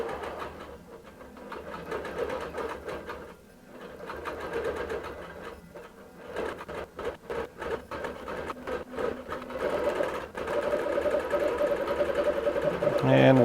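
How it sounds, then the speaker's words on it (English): A QBOT V3 quilting sewing machine stitches a quilt with a steady rhythmic mechanical hum and needle clatter, fading briefly in places, then running louder and more continuous toward the end. "And we'll let that quilt a little bit"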